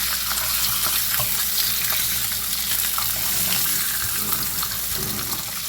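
Pieces of food browning in a hot frying pan for pizza soup, a steady loud sizzle and crackle running throughout with occasional stirring scrapes, no voices.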